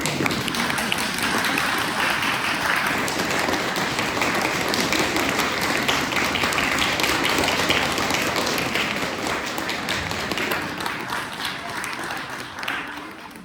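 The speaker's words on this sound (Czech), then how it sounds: "Zatleskejte jí" An audience at a New Year celebration in the Chapel of St. Anne in Kvítkovice applauds in a long, dense, steady stretch of clapping that eases slightly toward the end.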